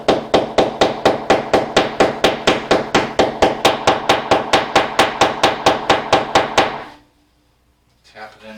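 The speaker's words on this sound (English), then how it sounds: "Just tap that in with a hammer." A hammer taps plastic wall anchors into a wall for a towel bar, about two dozen quick, even, close strikes in a steady rhythm, then the blows stop and a short silence follows.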